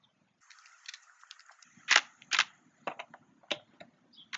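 A Ryobi impact driver used as an impact wrench on a torqued bolt, producing sharp irregular rattling bursts and clicks, close and fairly quiet, with short gaps between hits.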